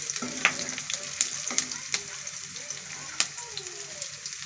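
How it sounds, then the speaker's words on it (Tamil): Onions sautéing in a pan for a drumstick kuzhambu curry, giving a steady close sizzle with scattered sharp pops and occasional stirring scrapes. "வெங்காயம் நல்லா வதங்கணும்"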